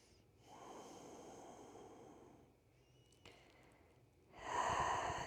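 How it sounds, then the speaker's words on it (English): Slow, audible breaths during a therapeutic yoga session for the low back and sacrum: a long soft exhale, a quieter pause with a small click, then a louder, fuller breath near the end, with no talking. "Couple breaths here."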